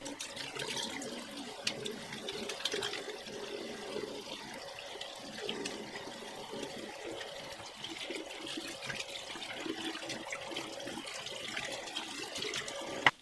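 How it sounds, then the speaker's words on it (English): Water runs steadily from a tap as hands are washed after planting hyacinth bulbs, a soft continuous splash and trickle with faint sporadic clinks, fairly quiet and with no talk. "I'm gonna go wash my hands real quick."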